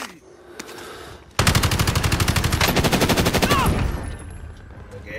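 Rapid bursts of automatic gunfire in a video game firefight, loud and continuous for a few seconds after a brief quieter start, then trailing off.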